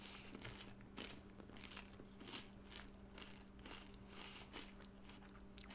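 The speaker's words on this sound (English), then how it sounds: "sorry, that was very crunchy. I have toast." Faint, close crunching of toast being bitten and chewed, a string of crisp irregular crunches repeating across several seconds with no talk over them.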